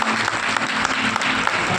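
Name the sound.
congregation applause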